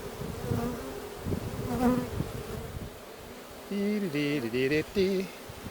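Honey bees buzz in a steady, close hum with a background rush while burr comb is scraped from a hive, with a louder droning buzz that wavers near the end.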